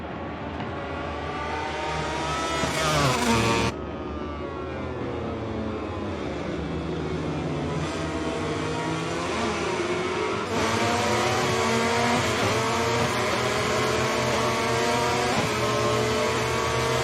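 MotoGP motorcycles racing at the Thai Grand Prix, engines screaming loud and continuous with rising and falling pitch as bikes accelerate and shift, a sharp sweep near the start and a fresh surge later, under a steady roar.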